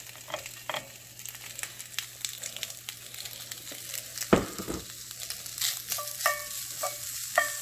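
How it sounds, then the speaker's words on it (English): Bacon fries in a pan with a quiet, crackling sizzle, broken by scraping stirs and one sharp clunk of the utensil midway, then more lively popping toward the end. "We want to get this bacon nice and crispy"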